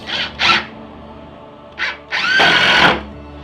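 A power drill drives screws into a wooden workbench frame: two short whirring bursts, a pause, then another short burst and a longer rising whine, close and loud.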